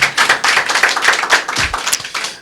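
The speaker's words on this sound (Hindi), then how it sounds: "जी परमेश्वर को ताली बजाकर धन्यवाद" A congregation at a church testimony service claps in thanks to God, a dense run of many hands patting at close range for a couple of seconds, with no talk over it.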